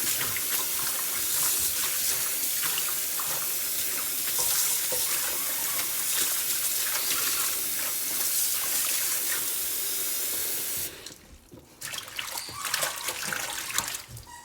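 Tap water runs into a sink while fresh basil is rinsed under it, a steady close splashing rush that stops abruptly near the end, followed by a few brief clatters.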